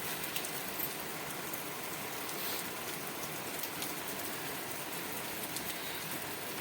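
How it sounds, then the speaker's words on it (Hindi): Heavy rain pours steadily and loudly on outdoor surfaces, a dense, even hiss with scattered patters and drips throughout, no voices. "मेरे बोलते बोलते ही बारिश आ गई, बहुत तेज।"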